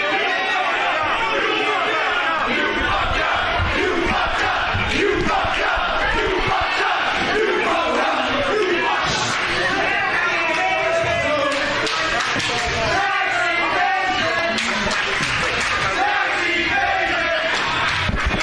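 A dense, loud crowd at an Invictus Pro Wrestling match chants and roars at wrestler Mucho Chris Moljo without a break, with voices talking over the din throughout.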